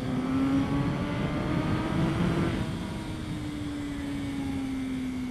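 A race car circles Winton Raceway, its engine a steady in-car drone with a tonal whine that rises and then eases down as it exits a corner.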